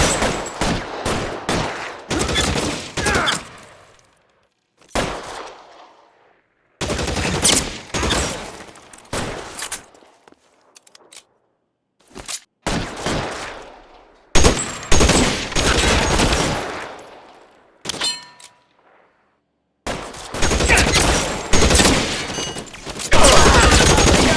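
Gunfire from a shootout in the video game L.A. Noire: loud, close volleys of rapid shots in repeated bursts, separated by brief silent gaps.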